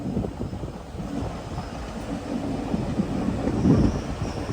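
A train runs on the Rishikesh to Haridwar line, a steady low rumble and rattle of wheels that swells slightly toward the end, with wind buffeting the microphone and no voices.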